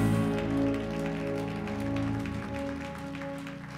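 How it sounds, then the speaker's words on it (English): Audience clapping at a church service forms a dense, rain-like patter over sustained keyboard chords and gradually thins toward the end. "I know we're clapping now"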